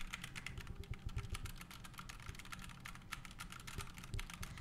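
Rapid, uneven clicking of a clicky computer keyboard being typed on at a desk, crisp and close but fairly quiet, with no talking.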